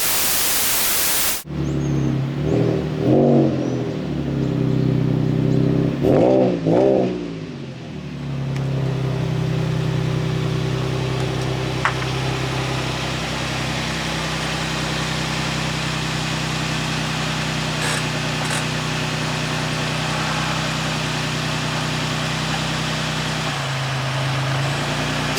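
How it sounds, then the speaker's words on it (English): An Infiniti G35 drift car cranks in a couple of short bursts, catches, and settles into a steady, close, rumbling idle that runs on without any talk. "That's right, we got the G35 running."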